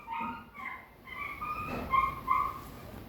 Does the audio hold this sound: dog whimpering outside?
yes